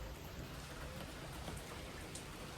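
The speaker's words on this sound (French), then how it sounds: "Bon les gars en fait il a pas du tout arrêté de pleuvoir. Et il y a même des tonnerres maintenant" Steady rain pours down during a thunderstorm in Colombia, a dense, even hiss of drops hitting surfaces; no distinct thunderclap stands out.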